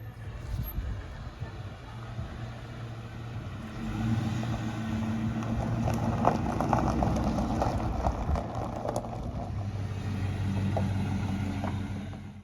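A 2004 Ford Mustang GT with a 2-valve V8 rumbles steadily as it drives up and arrives home, its low engine drone staying moderately close and swelling slightly midway with little else over it.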